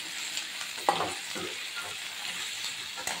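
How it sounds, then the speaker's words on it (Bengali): Soft, fairly quiet sizzle of onions, tomatoes and poppy seeds frying in a pan over medium-high flame, broken by a few stirring scrapes and light clicks. "একটু ভেজে নিতে হবে।"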